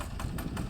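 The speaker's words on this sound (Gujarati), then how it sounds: "હા ટ્રેક્ટરનો અવાજ" A power tiller tractor engine runs steadily in a pearl millet farm field, giving a close, continuous rumbling drone with a faint rhythmic pulse throughout.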